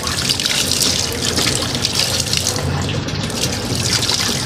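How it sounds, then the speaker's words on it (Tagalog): Steady running water, like a shower or tap flowing during a bath, fills the space continuously at moderate loudness with a broad hiss and no voices over it. "Naliligo."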